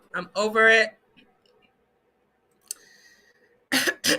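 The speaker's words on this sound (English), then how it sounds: "Let me clear my throat." A short, sharp throat-clearing burst sits near the middle, with speech before it and a loud voiced sound at the end.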